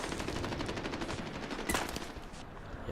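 Rapid gunfire from the first-person shooter Medal of Honor Warfighter, a steady stream of automatic shots with one louder burst midway, heard as game audio without speech.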